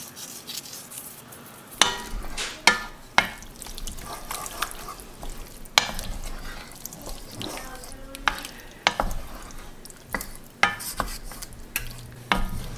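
Spoon stirring a tomato and onion pasta sauce in a pan, with scraping strokes and knocks against the pan over a soft, steady sizzle, close and fairly quiet.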